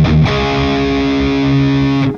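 Heavily distorted high-gain electric guitar through an ENGL E656 Steve Morse Signature 100-watt amp head, with all controls set to 6: one loud, sustained chord that rings out thick and steady for about two seconds, with no talking.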